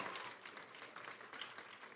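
A student-dialogue audience gives applause for university alumni, a faint, distant patter of clapping that stays fairly even over two seconds.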